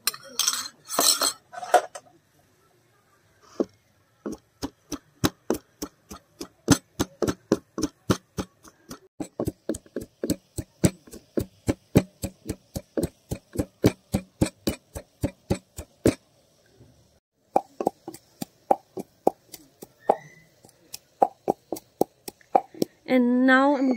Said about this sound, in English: So I'm gonna crush this garlic.